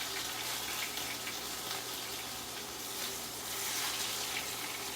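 Scallops sear in a pan of hot olive and sunflower oil, giving a steady, dense sizzling hiss that stays close and fairly even throughout, with no talking over it.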